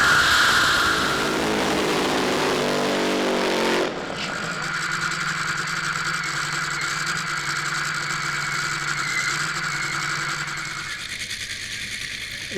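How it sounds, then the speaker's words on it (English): Top Fuel drag racing cars make exhibition passes at the Summit Racing Equipment Grand Final, a loud, sustained engine roar that shifts abruptly partway through and then keeps thundering steadily, filling the whole stretch with no voices. "we've got some Top Fuel exhibition passes about to come our way here at the Summit Racing Equipment Grand Final"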